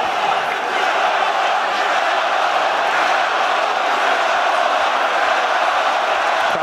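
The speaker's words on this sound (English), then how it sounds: "listen to the crowd loving this" Boxing arena crowd during a Lomachenko versus Campbell fight, a dense, steady roar of many voices that holds at an even level throughout without distinct peaks.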